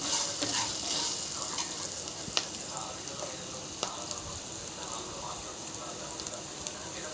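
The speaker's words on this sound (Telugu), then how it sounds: "పల్లీలు మంచిగా ఫ్రై చేసుకోవాలి మాడకుండా." Peanuts and onions fry in a pan with a steady, dense sizzle that fills the whole stretch, broken by a few sharp clicks of a spoon against the pan, close and even in level.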